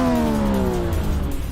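A race car engine in the Assetto Corsa video game revs high, a loud buzzing whine with a falling pitch as the revs drop, close and continuous, with no talk.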